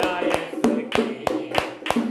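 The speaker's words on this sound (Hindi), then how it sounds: "मुंह खोलकर ताली बजाते हुए और उनकी आराधना करें।" A church congregation claps in unison during Friday worship, sharp regular claps about every third of a second, close and loud with faint voices behind.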